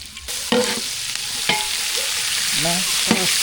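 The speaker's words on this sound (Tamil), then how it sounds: "தாளிப்பு ரெடி ஆகிட்டு இப்போ முருங்கைக்கீரை சேர்த்துக்கலாம்" Tempering crackles and sizzles in a hot pan as drumstick leaves go in, steady frying hiss broken by sharp stirring scrapes and clacks, close and without talk.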